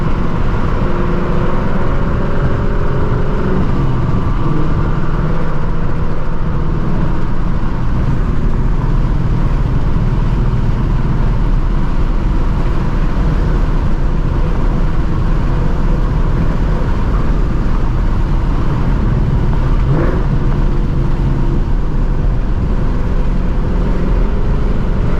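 A catless Ford Mustang GT S650 V8 engine, heard from the cabin while driving through the city at night, holds a loud, continuous low rumble and drone with little change from start to finish.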